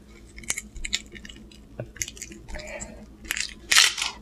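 Close, crisp crunching and biting while chewing lobster tail, a few separate wet crunches spaced over a few seconds with quiet pauses between them.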